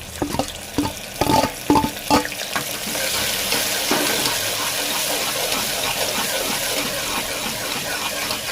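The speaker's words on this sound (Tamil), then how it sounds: "இப்போ வந்து நம்ம வெங்காயத்தை போட்டுருவோம்." Chopped onions dropped into hot oil for mutton kulambu, first a few clanks and stirring knocks, then a loud, sustained, rushing sizzle that holds steady.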